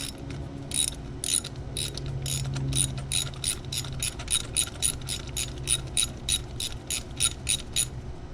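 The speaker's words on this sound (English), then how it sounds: "we're going to use our torque wrench to torque it down" A torque wrench ratchets down spark plugs on a Pontiac Vibe, Toyota Matrix or Corolla, giving a run of crisp, evenly spaced clicks close up with a low mechanical rumble underneath.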